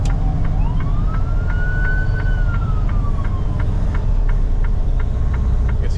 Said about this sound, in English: pull over for this ambulance